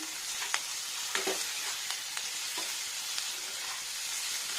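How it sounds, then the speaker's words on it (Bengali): Green chili and garlic sauté in a pan, a moderate steady frying hiss punctuated by several sharp clicks and scrapes of a stirring utensil, heard alone without talk. "আর কাঁচা লঙ্কা আর রসুন এটা দিয়ে নিয়ে কষিয়ে নেবো ভালো করে"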